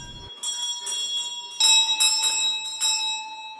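Bells on a restored Victorian servants' bellboard, worked by pull wires, ring out in a series of bright metallic strikes with long ringing tones, fairly close and clear.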